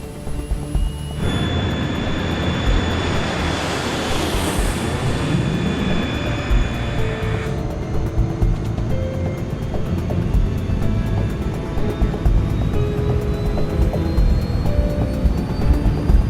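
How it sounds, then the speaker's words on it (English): A Brazilian-made Embraer E190, a narrow-bodied twin-engined jet airliner, gives off a steady loud roar with a high whine rising over it. The sound is close and continuous, with no talk. "The recently serviced plane is a Brazilian-made Embraer E190. It is a narrow-bodied, single-aisle, twin-engined aircraft which is used for medium range."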